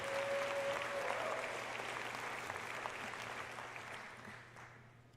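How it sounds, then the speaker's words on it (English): Audience applause fills a graduation ceremony hall, a dense, steady clapping that starts strong and slowly fades over a few seconds. "So one more round of applause for Aiden."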